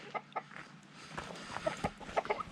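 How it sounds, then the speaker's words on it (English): Chickens cluck in short, scattered bursts at a moderate distance, with soft farmyard background noise and no talking. "The chickens are all doing okay"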